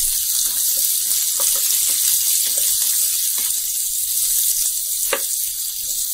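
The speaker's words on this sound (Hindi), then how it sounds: "अब हम इसमें डाल देते हैं गाजर और शिमला मिर्च" Carrots and bell peppers cooking in a pan for rava upma, a steady close sizzle with scattered stirring clicks and scrapes throughout.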